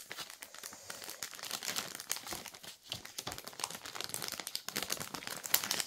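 Close, steady crinkling of a plastic pouch as it is handled and packed, with irregular crackles and rustles throughout.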